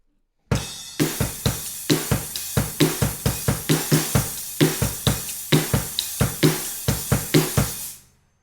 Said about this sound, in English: again a very similar kick snare beat, but we're going to play 3 and on the kick drum at the end of the second measure